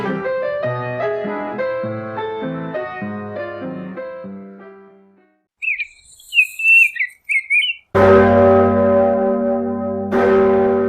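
Birdsong follows a stretch of piano music during a church worship service: a run of bright, warbling chirps, fairly close and clear, set apart by short gaps. A loud sustained organ-like chord cuts in afterward.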